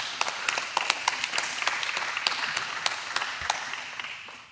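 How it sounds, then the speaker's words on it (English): A church congregation breaks into scattered applause, individual sharp claps standing out in an uneven rhythm over a softer background of clapping, moderately near and gradually thinning. "we can clap for that"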